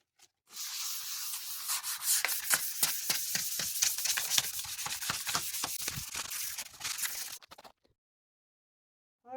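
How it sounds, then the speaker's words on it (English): A roadside stall's wooden surface is sanded by hand before painting, with rapid rhythmic scraping strokes for about seven seconds, close and steady, then an abrupt stop into silence. "so I'll sand it first, and then we get into the fun stuff of painting."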